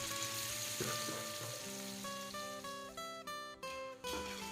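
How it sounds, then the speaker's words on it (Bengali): Meat pieces and mince sizzle loudly in a pan with fried onions for a traditional Bengal hotchpotch, a steady close crackling fry with a few sharp stirring knocks and clatters near the end. "পেঁয়াজটা যেরকম ভাজার দরকার সেরকম হয়ে গেছে এখন আমি দিয়ে দেবো মাংসের টুকরো মাংসের কিমা"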